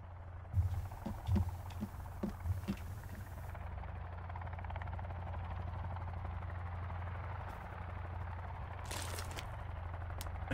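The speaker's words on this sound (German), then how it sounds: "Oh, ich höre den Hubschrauber." A helicopter flies overhead near an island, a low steady rotor throb holding through the whole stretch, fairly faint and distant, with a few brief knocks early on.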